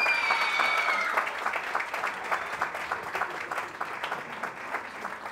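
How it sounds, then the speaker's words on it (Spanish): Guests at a quinceañera celebration applaud the birthday girl, a bright crowd clapping at moderate distance that starts full and thins into a lighter, uneven patter of hands, with a faint whistle at the start. "Un fuerte aplauso para la quinceañera,"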